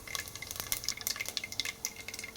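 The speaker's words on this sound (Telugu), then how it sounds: "ఇలా ఆయిల్ హీట్ అయిన తర్వాత వన్ టీ స్పూన్ ఆవాలు నాలుగు ఎండుమిర్చి వన్ టీ స్పూన్ జీలకర్ర" Mustard seeds, four dried red chillies and cumin sizzle in hot oil for tomato pappu, a close steady crackle with rapid sharp pops and spits throughout.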